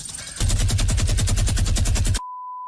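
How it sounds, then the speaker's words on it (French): Machine gun in the video game Choo Choo Charles firing a rapid, even burst of about twenty loud shots that stops abruptly, followed by a steady tone. "j'ai entendu des bruits de mitrailleuse, des bruits de tir"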